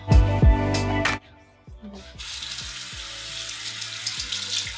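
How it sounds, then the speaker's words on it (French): Tap water runs into a bathroom sink while a face is rinsed, with loud close splashes at first, then a brief lull and a steady, softer stream of running water. "Donc j'ai fini de rincer la peau de mon visage."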